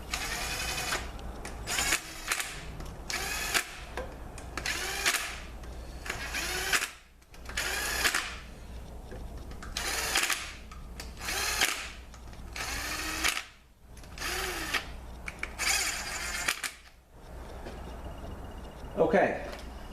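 A power tool runs down bolts on a Ford 845RE transmission case during a case swap, in repeated short whirring bursts of a second or two, loud and close, with gaps between them.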